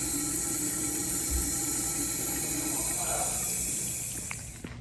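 Water runs steadily from a tap with a constant hissing rush, close by, then begins to taper off near the end.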